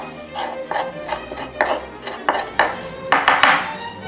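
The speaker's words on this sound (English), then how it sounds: "Then get your spoon and scrape the bottom a little bit." A spoon scrapes and knocks against the bottom of a bowl of sticky homemade ravioli dough, a series of irregular clinks and scratchy strokes at close range.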